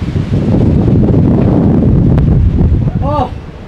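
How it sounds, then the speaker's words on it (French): Strong wind buffets the microphone with a loud, continuous roar. A brief voice comes through near the end. "T'entends ce vent?"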